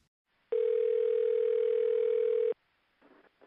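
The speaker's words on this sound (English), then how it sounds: "just about that time the phone rings" A single long electronic telephone ring tone, loud and steady for about two seconds, followed by a faint crackly line noise, with no one speaking.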